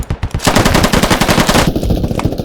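Gunfire in the video game Squad, a loud, fast burst of automatic rounds close up, running continuously for a couple of seconds.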